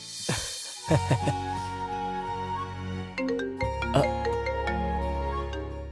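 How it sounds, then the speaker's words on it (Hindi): A phone ringtone for an incoming call in a Hindi horror TV serial, a melodic electronic tune of sustained chiming notes that changes pitch in steps, clear and fairly loud with no voices. "मेरे पार्टनर का फोन आ रहा है"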